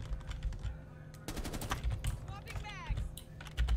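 Gunfire from Rainbow Six Siege crackles in short bursts over steady game ambience, with quick shots clustered in the middle and a voice talking over the action.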